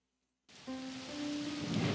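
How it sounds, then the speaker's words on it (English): Rain in the video game Sorcerers Choice comes in abruptly after silence as a steady hiss of rainfall, swelling gradually louder over a low sustained tone, with no one speaking. "Rain."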